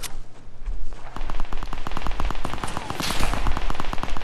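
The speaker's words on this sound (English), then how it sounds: "We are also getting shot from the east." Gunfire crackles in a shooter video game, starting with a faint shot and then a long rapid automatic burst of shots that stays loud and close, with no talk.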